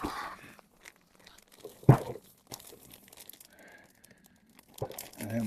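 A plastic bag is cut open inside a polytunnel, giving a brief crisp tearing and crinkling burst with quiet rustling around it and a voice speaking faintly before and after.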